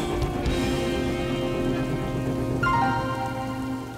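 Steady rain pours down in a dense, continuous hiss that stays loud throughout, with a tonal musical layer running underneath.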